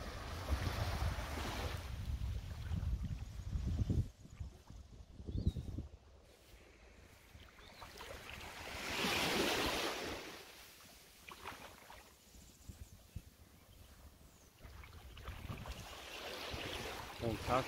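Waves wash in at Praia da Paca beach in slow surges of surf, with wind buffeting the microphone between the swells, moderately near and fairly faint.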